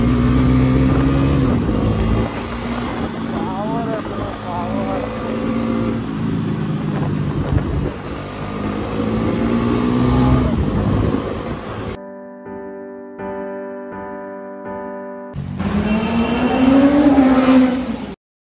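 Two motorcycles, a Kawasaki Ninja 10R and a Bajaj Pulsar NS400Z, rev side by side nearby, loud rising and falling engine roars with a brief break midway before revving resumes.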